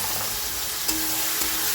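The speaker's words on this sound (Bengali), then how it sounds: "এখন দিয়ে দেবো এই মিক্সি করা পেঁয়াজ আদা রসুনের এই পেস্টটা" Onion, ginger and garlic paste hitting fried onions in a hot pan, giving a steady close sizzle with a couple of soft stirring knocks.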